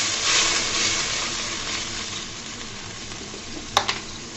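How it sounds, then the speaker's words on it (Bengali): Boiling hot water poured onto onions frying in a pan raises a loud, steady hiss and sizzle, with a couple of sharp spitting pops near the end and no voices. "পেঁয়াজটা যখন ভাজা ভাজা হয়ে যাবে এখানে দিয়ে দেবো আমি ফুটন্ত গরম পানি।"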